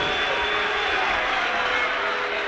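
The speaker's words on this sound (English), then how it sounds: "we'll get a crescendo of applause from Meadow End" A football crowd at Hereford v Kidderminster Harriers applauds from the Meadow End as a goalkeeper returns, a dense, steady roar of clapping filling the short stretch without a break.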